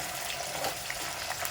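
Dried fish frying in hot oil, giving a dense, steady crackle and hiss, close and continuous for a brief moment with no voices.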